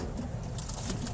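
Pigeons kept for breeding, a pair in a loft, give low, steady cooing close by, a continuous soft murmur with no speech over it.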